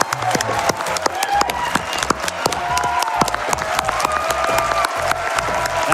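A large crowd at the AGDQ 2024 speedrun charity marathon applauds and cheers while music with a steady beat plays, the clapping continuous and fairly loud.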